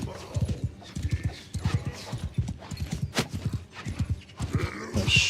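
Horse hooves clip-clop in a rapid, steady rhythm across a Warhammer mod battle game as mounted archers ride, with occasional clashing and distant battle noise behind the galloping.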